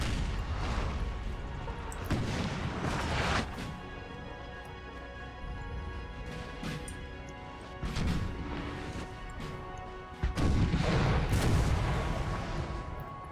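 Cannon artillery fire in a Napoleon Total War battle, heavy booming crashes at irregular intervals over a continuous rumbling battlefield din, with one loud close blast near the end.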